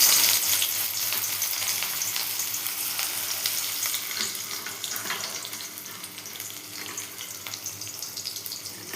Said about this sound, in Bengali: পেঁয়াজগুলো হালকা লাল লাল ভাজা হবে